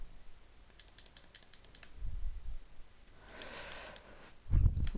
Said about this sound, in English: so if it gets a bit boring I'm just typing